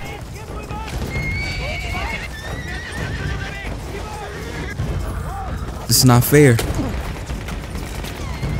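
War horse in the video game Battlefield 1 whinnies loudly amid battle noise and gunfire, with hoof clip-clops beneath, while someone talks over it.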